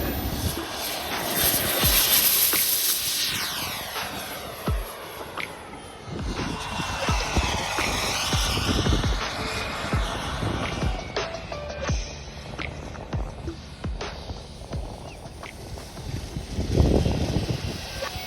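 A foam Freewing T-45 V2 RC jet with a turbine conversion flies overhead. Its loud turbine whine sweeps in and out across repeated passes and swells sharply on a close pass near the end.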